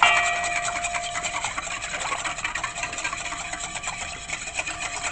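Whisk beating melted butter into a vegan, gluten-free cheddar biscuit batter in a bowl, producing a continuous rapid scraping, rubbing rhythm that stays close and steady throughout.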